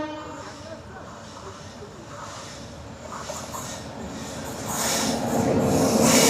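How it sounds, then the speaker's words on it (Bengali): The Farakka Express passes a closed railway crossing near Buniadpur station in rural West Bengal, a steady rumbling of wheels and cars that grows louder toward the end as the train nears. "আর সামনেই রেলগেট পড়েছে, ট্রেন আসছে, দেখাচ্ছি আপনাদের।"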